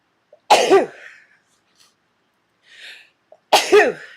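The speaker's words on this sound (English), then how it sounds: "I have another sneeze coming" Two sneezes from one person, each a sharp close burst with a short voiced trail, spaced a few seconds apart with a faint breath in the quiet between.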